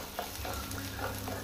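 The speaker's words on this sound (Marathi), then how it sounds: "ओनियन मातसो ब्लॅक ब्रावन कलर येयसर ताका बरें फ्राय करून घेवया" Onions frying in a pan toward a dark brown color, a soft, quiet sizzle with a few faint stirring scrapes over a brief moment.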